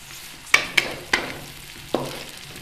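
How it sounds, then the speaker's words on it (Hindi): Onions fry in a pan for cabbage sabzi, with a low steady sizzle broken by four sharp clacks of a spoon stirring against the pan, close and with no talking. "प्याज को हमने जो है वो ज़्यादा नहीं ब्राउन करना, बस इसको हमने हल्का सा ही ब्राउन होने देना है"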